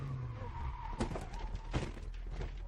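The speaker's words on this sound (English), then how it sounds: "changing conditions on this stage saw the Darien slip on some mud" Darien T9 rally car sliding on mud on a rally stage, a muffled rumbling engine under two brief scraping skid bursts, heard from a distance and fairly faint.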